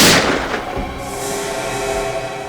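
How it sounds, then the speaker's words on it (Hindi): A single sharp gunshot cracks at the start, followed by a long, rumbling echo that slowly fades. "गोली चलने की आवाज आई। शायद इस तरफ से आई।"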